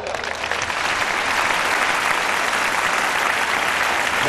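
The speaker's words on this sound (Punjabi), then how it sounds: "ਤਾਲੀ ਵਜਾਓ।" Audience applause at a gathering in Khojewala, a dense, sustained wash of many hands clapping that swells in the first second and holds steady and loud for several seconds with no speech.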